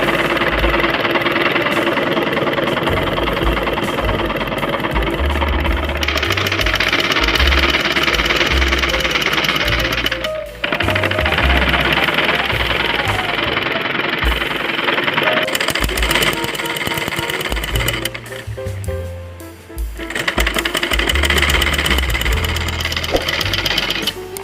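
A sewing machine runs stitching a seam on palazzo trousers, a loud continuous mechanical whir in long bursts with short pauses between runs.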